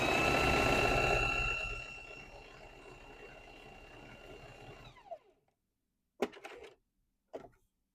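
A sewing machine running a smocking stitch on dress fabric, a loud steady mechanical whir that slows and stops after about five seconds, followed by a few short handling clicks and taps.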